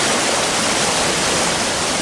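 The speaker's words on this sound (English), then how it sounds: "send over 200 billion metric tons of water thundering down the valleys." A dense, constant roar of huge volumes of water thundering down Amazon valleys fed by Andes meltwater and cloud-forest rain, loud and unbroken with no other sounds.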